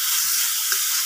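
Tomato masala cooks in oil for a brinjal curry, making a soft continuous sizzle and hiss with a couple of faint low bumps, near and alone.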